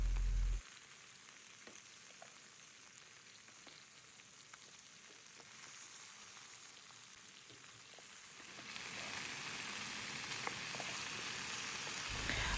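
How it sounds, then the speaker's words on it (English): Pork belly and vegetables fry in a pan with a steady, soft sizzle that grows louder and brighter partway through, continuous crackling with no talk. "I've added in the vegetables, and I'm just going to fry for some time"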